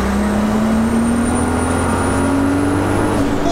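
Carbon-bodied, 900 kg Mk1 Golf with a turbocharged R32 engine swap accelerating hard in third gear, its engine note climbing steadily in pitch, loud and close from inside the car.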